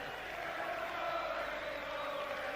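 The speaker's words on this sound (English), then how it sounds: "Crowd bursting into song" Boxing arena crowd singing together in Boston at the Mike McCallum versus Steve Collins fight, a distant, fairly faint wash of massed voices sustained throughout without a break.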